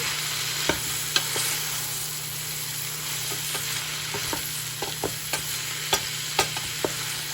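Mushroom and vegetables for stock sautéing in a pot: a continuous close sizzle with scattered light clicks and taps of a utensil, no voices.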